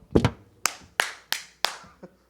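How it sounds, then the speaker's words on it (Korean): Hands clap sharply several times at a slow, slightly uneven pace, close by, with a quick double clap at the start. "야, 박수 더 크게 쳐."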